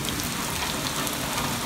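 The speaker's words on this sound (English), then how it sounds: "there is so much rain. This is like fog out here." Heavy rain pours down outdoors in a dense, steady hiss of drops hitting surfaces, close and loud throughout with no voices.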